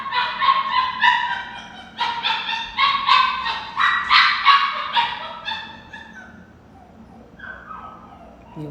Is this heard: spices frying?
no